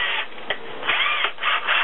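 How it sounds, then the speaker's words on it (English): A step bit drills into an aluminium pop can, giving short scraping bursts and a squealing, rising metallic whine in uneven spurts, close and fairly quiet. "to drill my cans, I found that I like a step bit."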